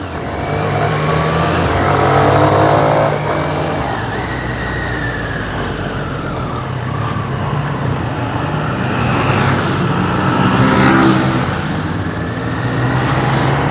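A Triumph Street Triple 765 R motorcycle is ridden on the road with a loud, continuous engine drone and heavy wind rush. The engine rises and falls gently as the throttle changes.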